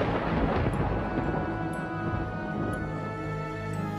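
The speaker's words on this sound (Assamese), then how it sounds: "হঠাতেই যে আকাশত মেঘে গৰজি উঠিছিল।" A low, sustained thunder rumble rolls through a narrated Assamese ghost story, steady and full with a deep roar that slowly fades, heard alone without speech.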